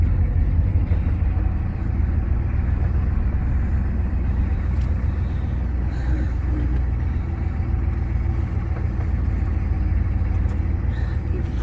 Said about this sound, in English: You can probably see me driving down the road, weaving back and forth